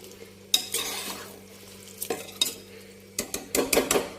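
A spoon stirs potato and brinjal curry in a pan, making sharp scraping and clinking bursts against the metal over a soft background sizzle, irregular and close, with no speech.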